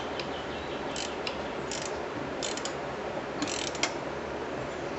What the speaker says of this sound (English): You want to go ahead and tighten up that 14mm nut that's on the tensioner pulley